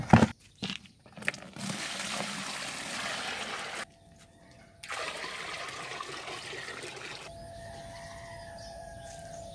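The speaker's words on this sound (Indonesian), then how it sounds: "Nanti kita akan isi air, kita akan kocor ya." Water pours into a polybag of shallot plants being fed with dissolved NPK fertilizer, a steady close splashing trickle that breaks off briefly and resumes, then thins to a softer flow.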